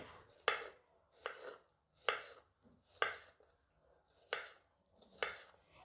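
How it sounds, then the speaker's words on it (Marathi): A knife cuts peeled raw bananas into round slices on a board, six sharp separate chops spaced about a second apart, close and clear with quiet gaps between them and no talking. "आता आपण केळी गोल गोल अशी कट करून घेऊ"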